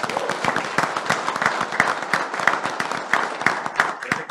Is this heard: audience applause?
yes